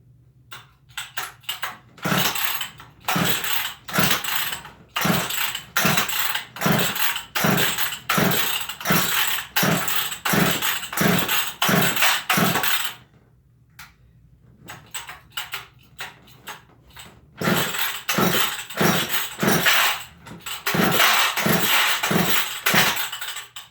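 McCulloch 1010 automatic chainsaw being started on choke: a long run of repeated rhythmic pull-cord rattles and sputters, loud and close, with a brief pause midway before the pulls resume.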